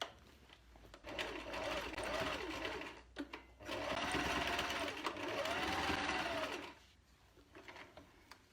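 Domestic sewing machine stitching the strap of a unicorn sleep mask, running in bursts of rapid mechanical whirring with short pauses between, close and fairly loud, then quieter handling at the end.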